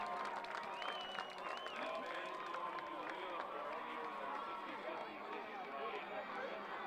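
Faint, distant crowd at a high school powderpuff football game, cheering and clapping in a steady wash with chatter and an announcer talking over it.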